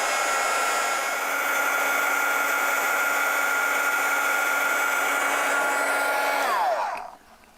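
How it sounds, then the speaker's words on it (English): A heat embossing tool blows hot air in a steady, loud, continuous whir for about seven seconds, then cuts off abruptly. "grab my heat tool and emboss"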